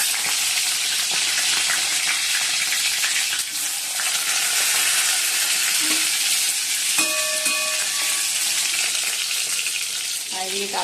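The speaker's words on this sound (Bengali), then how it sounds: "তেল গরম হয়ে গেছে, বেগুনগুলো দিয়ে দিচ্ছি।" Eggplant slices fry in hot oil in a wok, giving a dense, steady sizzle that runs unbroken throughout, with a few brief clinks and knocks late on and no talking.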